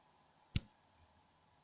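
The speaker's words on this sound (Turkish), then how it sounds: "Ben şu Godfrey tıklayacağım" A single sharp computer mouse click, close and crisp, followed by a faint soft tick, with the player selecting a character in Among Us in a quiet room.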